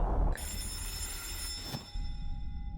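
A doorbell rings incessantly in the video game Tiny Bunny, a steady electric trill that runs on at moderate volume over low background noise, with no talking.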